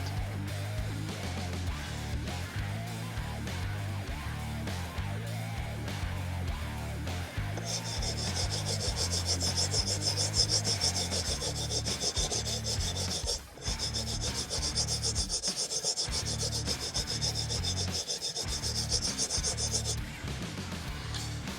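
Guitar frets being sanded to work out dents, producing continuous close scraping and rubbing with a harsher, brighter grinding stretch in the middle and only a momentary break, with no voices.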